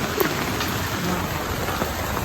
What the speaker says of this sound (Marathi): हे बघा हे पाऊस.